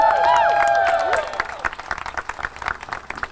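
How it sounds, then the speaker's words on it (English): Audience at a North Carolina General Assembly health-care rally applauding speakers, clapping under a brief loud tone at first, then thinning into scattered, uneven claps. "Let's receive them with a hearty applause"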